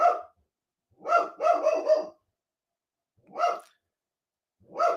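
A dog barks in separated bursts, single barks and a quick cluster of three, close and clear with silent gaps between.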